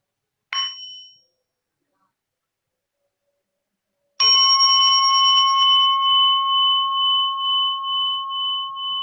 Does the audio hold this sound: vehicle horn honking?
no